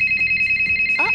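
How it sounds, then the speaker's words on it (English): An emergency phone rings in the PC game Secret Agent Barbie, a loud, rapid electronic trill pulsing evenly throughout, with a brief voice-like chirp near the end. "Uh-oh, that's your emergency phone."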